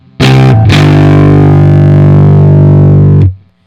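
A loud, heavily distorted electric guitar chord through the NI Guitar Rig plugin, with too much reverb, rings out for about three seconds, thick and buzzing, then cuts off.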